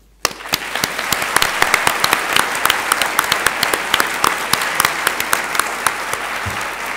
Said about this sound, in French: Je pense qu'on peut applaudir ces deux associations assez fort.